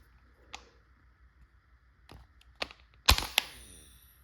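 A First Strike FSC less lethal magazine snapping into place, a few sharp isolated clicks and one louder clack near the end, close and otherwise quiet.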